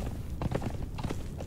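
Horses clip-clop in the video game Conan Exiles, a few quiet hoof thuds close together over a muffled low rumble, brief and soft.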